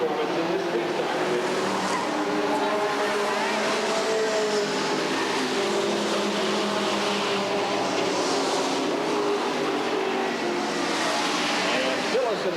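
Street stock race cars circling Redwood Acres Raceway in 1989, a continuous roar of engines in race traffic with a commentator talking over it throughout.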